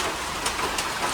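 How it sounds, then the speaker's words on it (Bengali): Rain falls steadily beside a rooftop garden on a tin-roofed house, a soft, even hiss with a few faint louder patters, close and unbroken. "এই যে বৃষ্টি হচ্ছে।"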